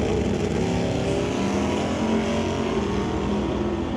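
A 1967 Camaro and Firebird drag race down the strip, a steady, loud engine roar heard from trackside that holds throughout without a break.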